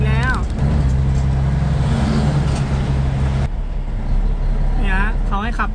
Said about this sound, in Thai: รถขนหินลอยๆมาอีกแล้ว